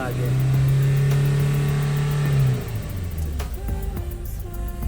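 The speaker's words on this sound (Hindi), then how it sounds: "दब के रेस हो रहे, फुल के रेस भी नहीं हो रही।" A Maruti Dzire car engine revs loudly and close up with a steady droning tone. It holds without climbing to full revs for a couple of seconds, then drops to a rougher, uneven idle.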